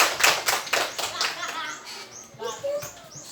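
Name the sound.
audience applause for Ibu Mary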